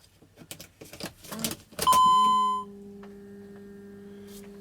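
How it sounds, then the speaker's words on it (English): Ignition key turned on in a Mercedes/Dodge Sprinter van with a boost pressure fault: keys jingle, a loud chime sounds and fades, then a steady electronic tone holds alone. "Alright, so I'm gonna turn the key on."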